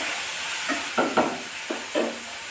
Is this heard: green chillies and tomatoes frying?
yes